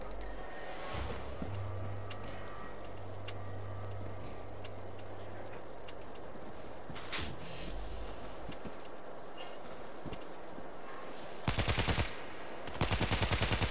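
Turret machine gun in World War Z's horde mode, firing in a few short, rapid bursts late on after a long stretch of quiet, rumbling background, with single sharp shots scattered earlier.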